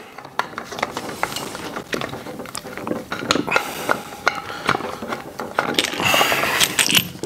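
A wrench loosening the fitting on a CO2 tank for a Club Cannon handheld CO2 cannon: close metallic clicking and scraping in irregular bursts, growing busier and louder toward the end, with no voices.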